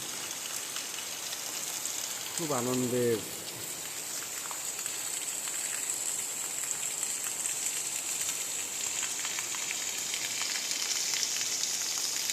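Steady rain falls outdoors where children are playing, a continuous broad hiss throughout, with a short voice breaking in briefly near the start.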